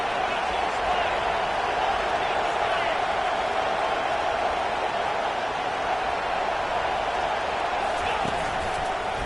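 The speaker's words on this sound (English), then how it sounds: "It is getting loud as this crowd tries to help its defense" Dense, steady roar of a big football crowd getting loud to back its defense, a constant wash of noise with no breaks and no clear voices, filling the whole stadium.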